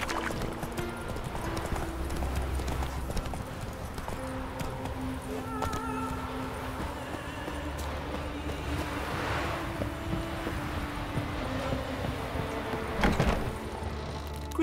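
Horse hooves pound in a steady galloping clip-clop in The Witcher 3, with a continuous rhythmic beat under soft wind-like ambience and a brief louder thump near the end.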